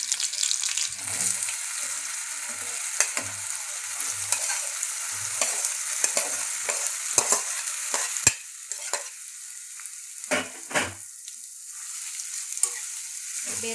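Ridge gourd pieces fry in a pan over medium flame with green chilies, a steady close sizzle running throughout, broken by scraping stirs and clattering utensil knocks.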